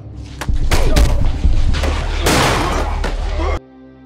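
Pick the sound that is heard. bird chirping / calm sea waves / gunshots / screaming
gunshots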